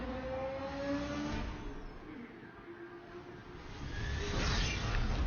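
A BMW M3 GT racing car in Need for Speed on an iPad, its engine droning and shifting pitch with a rising rev and whooshing surge near the end, muffled and moderately loud.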